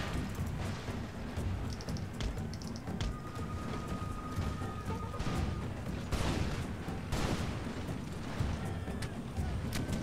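Massed musket volleys crackle through a large Empire Total War battle, a dense continuous wash of gunfire with heavier bursts and distant booms rolling under the din for the whole stretch.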